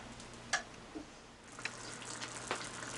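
Red palm oil frying in a pot on medium-low heat, a faint, steady sizzle with a few soft pops and clicks.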